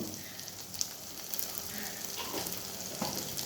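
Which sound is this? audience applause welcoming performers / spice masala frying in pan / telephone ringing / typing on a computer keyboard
spice masala frying in pan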